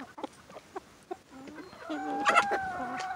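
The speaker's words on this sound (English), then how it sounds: "My chicken!" Chickens clucking close by, a series of short scattered clucks that build into louder overlapping squawks and calls toward the end, with no talking.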